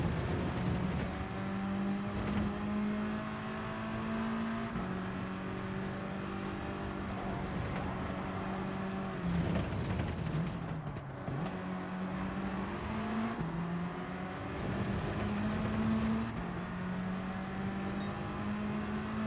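A Volkswagen Scirocco race car engine in Gran Turismo 7 on the Dragon Trail circuit drones steadily at high revs, with gear shifts and rising pitch sweeps recurring every few seconds during an online Nations Cup race, with no talk.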